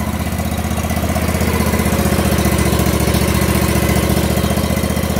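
A Ferris Z3X zero-turn mower with a 37 hp engine idles close by, a loud, steady, rhythmic rumble with even pulsing and no pauses.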